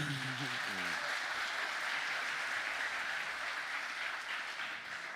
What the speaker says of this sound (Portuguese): dar uma salva de aplausos para o Pastor Romildo.